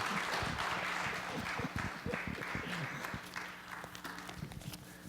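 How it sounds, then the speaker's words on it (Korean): Church congregation applauding to welcome a pastor to the pulpit, steady, moderately distant clapping with crowd noise and a low hum, thinning slightly toward the end. "큰 박수로 환영해 주시기"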